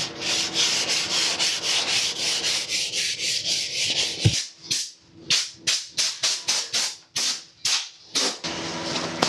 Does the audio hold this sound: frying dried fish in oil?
no